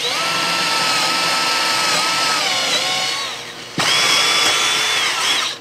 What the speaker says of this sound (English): Got to drill it slow.